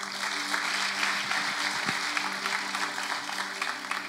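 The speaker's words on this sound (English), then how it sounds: "people are clapping" A church congregation claps after a sermon in a steady, dense burst of applause that lasts throughout, with a low hum underneath.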